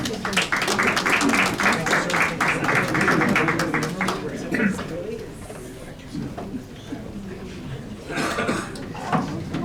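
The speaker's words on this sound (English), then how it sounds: "Please give him a round of applause." An audience at a United Nations side event claps for a health minister, with several seconds of brisk applause that thins out, followed by a cough and a voice nearby.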